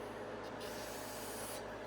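A steady, continuous hiss of spray held at close range on a pitted 4.3L V6 Chevy cylinder head, unbroken for the whole moment with no talking.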